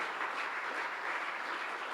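A church congregation at a Spanish-language worship service applauds in steady, dense clapping that fills the room evenly throughout, with no voices rising above it.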